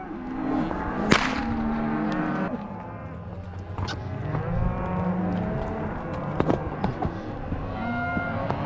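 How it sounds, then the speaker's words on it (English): A whip cracks sharply a few times to move stalled cattle on a Montana hillside drive, loud snaps over a steady open-air background with cows mooing in long low calls. "a whip really helps because the sound carries all the way to the front"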